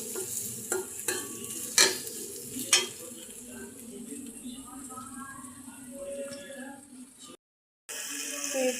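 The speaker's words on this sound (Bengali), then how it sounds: "পেঁয়াজটা দিয়েছি কড়াইয়ে, পেঁয়াজটা এখন লাল লাল করে ভেজে নিব" Onion frying in a kadai for a Bengali home-cooked dish, a steady sizzle with several sharp scraping stirs near the start, a faint voice audible underneath.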